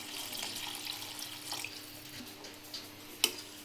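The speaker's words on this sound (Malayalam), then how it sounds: "അരി വേവാൻ ആവശ്യത്തിനുള്ള വെള്ളം ചേർക്കുക" Soft water trickling steadily as it is poured into a cooking pot of rice, fairly quiet, with a small clink near the end.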